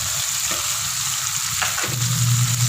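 Pork frying in a pan with shrimp paste (alamang) just added for spicy binagoongan, a steady loud sizzle throughout with a couple of stirring scrapes.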